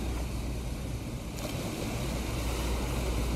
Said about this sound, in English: if you listen to the ocean sound, it's recorded, it's pre-recorded